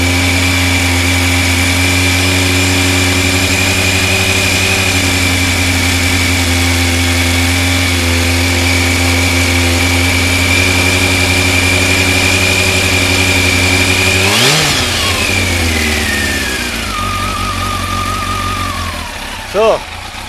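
A Kawasaki ZX12R motorcycle with cylinders 1 and 3 misfiring idles steadily and loudly up close, with a rough uneven hum, then blips the throttle once before the revs fall away and a short knock follows.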